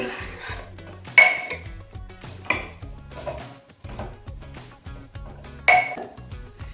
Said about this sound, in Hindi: अच्छे से मिक्स कर देंगे